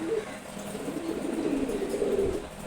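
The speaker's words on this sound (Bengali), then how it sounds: "এখন ভিডিওতে যেই কবুতরগুলো দেখছেন এগুলো হচ্ছে রেসার পিজন" Racing pigeons coo nearby in soft, repeated low warbling calls that continue steadily over light background noise, with no voices.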